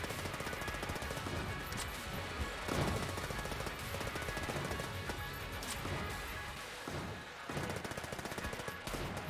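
Gunfire from the video game Enter the Gungeon, with dense, continuous bursts of rapid shots mixed with game effects, loud and busy throughout.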